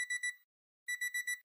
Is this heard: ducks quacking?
no